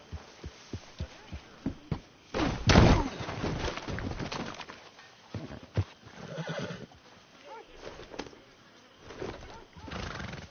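A horse in Red Dead Redemption 2 whinnies loudly near the start, then its hooves clop in an uneven run beneath game ambience, with a few brief voices in the scene.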